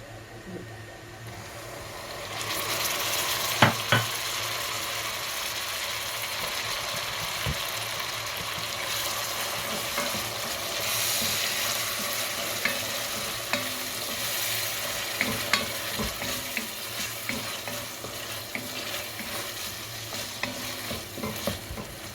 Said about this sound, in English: On medium heat, simmer this until the actual tomatoes become like a puree.